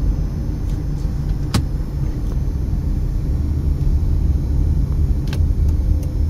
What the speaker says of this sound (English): 3 or 4 cars came in behind me.